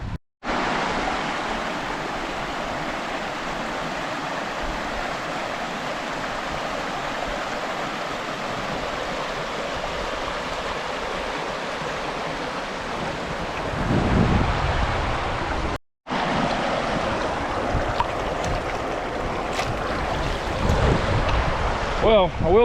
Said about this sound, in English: it is mountain like runoff water